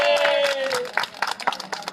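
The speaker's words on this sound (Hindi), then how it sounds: "एक बार मैम के लिए ताली बजा लो" Audience clapping for someone speaker at a Modicare business meeting, a short burst of scattered hand claps rising over a fading voice and continuing as uneven applause.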